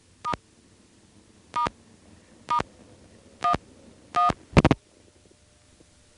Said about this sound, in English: Let's try dialing 1 first, which will break dial tone